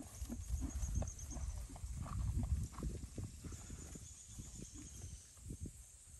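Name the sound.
horses walking with children riding, clip-clop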